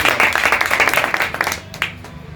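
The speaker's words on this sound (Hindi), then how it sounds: "ताली जोरदार होना चाहिए जी" Audience clapping at a business training meeting in a shopping centre hall, a dense burst of applause that thins out and fades near the end.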